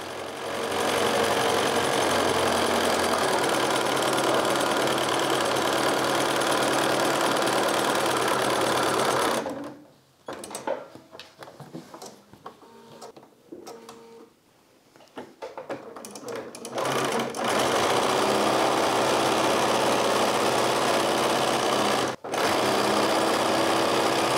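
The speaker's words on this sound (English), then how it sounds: "bring it to the sewing machine where I sew on both lines" A sewing machine runs steadily with a loud, continuous mechanical whir, pauses for several seconds, then starts stitching again at full speed.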